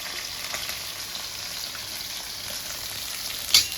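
Cauliflower frying in a pan with mustard seeds, cumin and green chillies, a steady close hiss of sizzling oil with faint stirring and one sharp clatter near the end.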